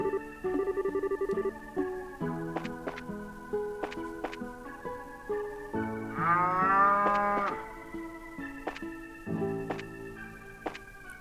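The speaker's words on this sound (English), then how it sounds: "That's one happy cow." A cow on a farm in the video game Trails in the Sky moos in a long, wavering call, set against plinking game music with sustained chime-like notes.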